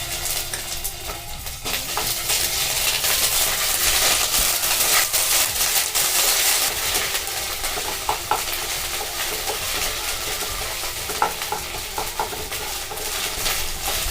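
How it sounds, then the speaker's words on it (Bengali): A spoonful of ginger fries in hot ghee, a continuous crackling sizzle with occasional light clinks of stirring, steady and close throughout with no voices. "এবারে আমি 1 চামচ আদা দেব।"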